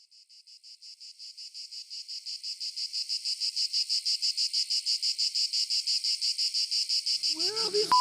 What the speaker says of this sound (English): Where are all these cicadas coming from?